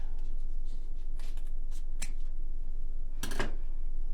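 Scissors cut down through a folded 2x2 gauze pad in a few crisp, close snips spread over several seconds, with a quiet background in between.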